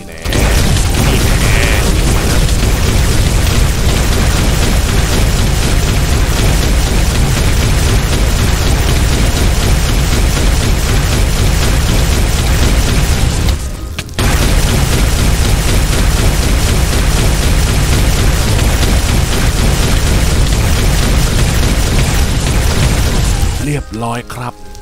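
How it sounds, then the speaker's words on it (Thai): A TFG10K gun firing in a video game set in a graveyard, part of a loud, dense wash of booming game sound that runs almost unbroken, with one short dropout near the middle. A voice is heard. "เราก็จะเอาปืน TFG10K เนี่ยยิงซะนะครับ"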